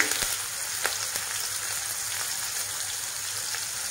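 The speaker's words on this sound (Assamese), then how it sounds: "এয়া মই সব পিয়াজ দিলো এটা স্লাইস কৰি দিছো" Sliced onions frying in a pan for a local chicken curry, a soft steady sizzle with a few faint clicks and scrapes of stirring.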